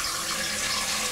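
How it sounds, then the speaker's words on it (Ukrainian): Cold tap water gushes steadily into a pot, a loud, continuous hissing splash close by with no pauses or voices. "Встаю, набираю у каструлю холодну воду,"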